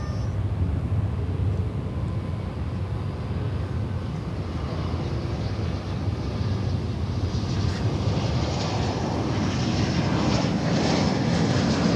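A jet airliner in TWA Heritage livery roars steadily at an airport, its broadband engine rumble holding loud and continuous and swelling slightly toward the end.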